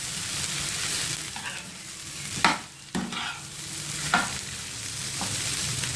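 A kabab mixture stirred in a pan over a medium flame: a steady background sizzle with a handful of distinct scraping strokes, two of them sharper, heard close and without voices.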